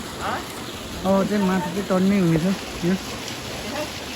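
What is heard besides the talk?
water being thrown out of stream to catch fish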